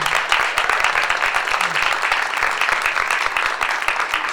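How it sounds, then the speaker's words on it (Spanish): Audience applause at an education event in a school institution, steady dense clapping throughout at moderate loudness with no voices over it. "Un aplauso, ¿sí?"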